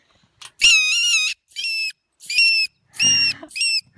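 Loud, shrill squeals from a mink, four or five piercing bursts separated by short silences, close by.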